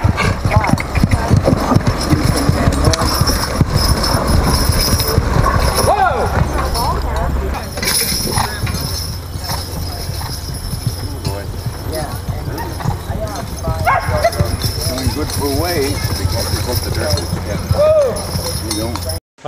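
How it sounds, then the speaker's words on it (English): Big draft horses clip-clop steadily at a horse pulling competition during a small-town summer Old Home Days celebration, hooves loud and close over continuous crowd chatter and outdoor bustle. "it's kind of a fun competition to watch the big horses pull this stuff"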